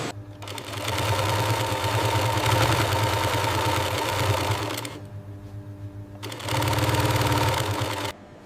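Heavy-duty sewing machine stitching aligned llama wool garment panels with thick thread in a wool factory, running loud and steady in two long bursts with a brief pause between, no talk.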